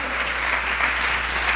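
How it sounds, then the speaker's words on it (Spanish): A church congregation at a sermon bursts into loud, sustained applause, a dense even wash of many hands clapping together with no voices over it. "denle un aplauso fuerte"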